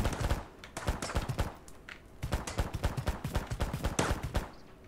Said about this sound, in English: And there's still someone shooting.